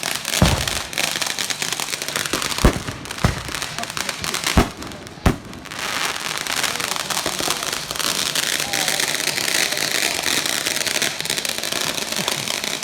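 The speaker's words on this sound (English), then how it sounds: "Let me set off the fireworks." Fireworks going off close by, with several sharp loud bangs and crackles in the first half followed by a steady hiss and rumble, while people talk and react in the background.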